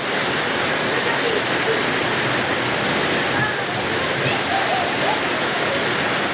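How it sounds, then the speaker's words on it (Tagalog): A dense, steady roar of heavy rain pours without pause, loud and close, with a few faint voices underneath. "ang lakas ng ulan guys"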